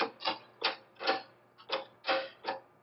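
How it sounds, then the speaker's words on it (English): A control arm bushing being forced out of a stock A-arm using sockets, heard as a series of about eight short, evenly spaced creaking squeaks, quiet and close, with no talking. "we're going to go ahead and press this bushing out"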